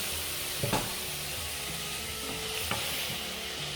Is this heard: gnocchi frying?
yes